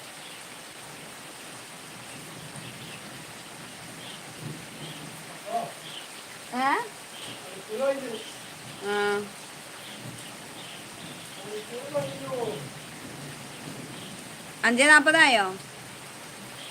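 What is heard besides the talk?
rain falling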